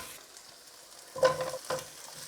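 Potatoes and cauliflower drop into a pot of hot onions and ginger, setting off a rush of sizzling and frying with stirring scrapes over a soft steady crackle.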